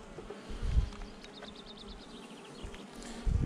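Honeybees buzz around a small nucleus hive, with several insects droning close by in shifting whines over faint background rustles and a couple of low bumps.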